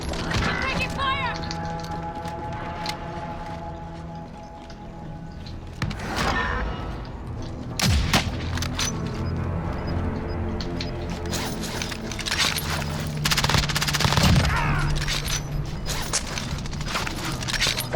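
Call of Duty match audio with dense bursts of automatic MP7 submachine gun fire and sharp cracks over a busy game soundscape, loud and close, with someone talking over parts of it.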